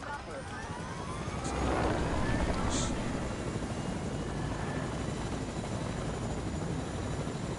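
Rescue helicopter lifting off in a video game, loud continuous rotor and engine roar swelling then holding steady, with a couple of short sharp game sound effects early on.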